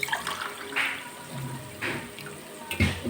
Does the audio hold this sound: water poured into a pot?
yes